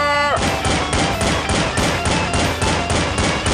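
Cartoon gunfire crackles loudly and continuously in a rapid, steady volley after a shouted order to fire, with the barrage filling the whole stretch.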